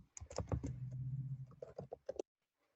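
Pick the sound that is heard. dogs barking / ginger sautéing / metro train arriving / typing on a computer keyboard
typing on a computer keyboard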